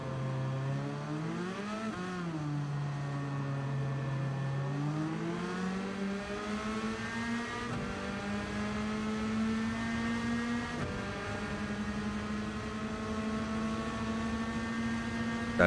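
A race car engine in a racing video game holds a steady, droning tone with smooth rises and falls as the revs shift through gears, continuous and fairly loud with no talk over it.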